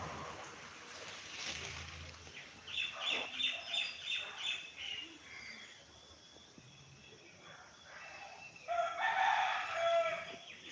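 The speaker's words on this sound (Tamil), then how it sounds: "கோழி அகவுது பாருங்கள்" A rooster crows outdoors in the early morning, the call repeating in a rhythmic run and again near the end, mid-distance, among chirping small birds with faint talk.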